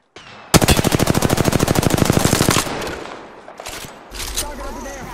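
Automatic gunfire in the military shooter game Squad: a loud, close burst of rapid evenly spaced shots lasting about two seconds, followed by quieter scattered shots and battle noise, with voices speaking briefly afterward.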